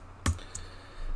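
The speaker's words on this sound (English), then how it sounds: "And I'm typing home." A couple of quiet clicks from typing on a computer keyboard, with one sharper keystroke and a softer tap after it in a quiet room.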